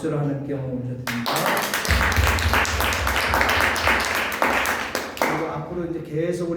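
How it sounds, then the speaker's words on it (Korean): Church congregation applauding during a Korean worship service in Mexico, a dense sustained wash of clapping that swells after a second and runs loud through most of the stretch, with music tones underneath. "박수를 하나님께 올려드립니다."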